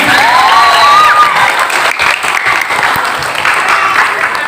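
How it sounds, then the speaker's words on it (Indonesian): An audience applauds in a pendopo hall during a discussion of Cirebon mask dance, loud dense clapping with a brief whistle-like tone early on and faint voices underneath, easing slightly toward the end. "Tepuk tangan untuk kita semua."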